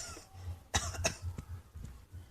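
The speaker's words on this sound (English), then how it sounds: "you can't cough like that" Someone coughs a few short times at close range, two sharp bursts followed by softer throaty sounds and quiet breathing.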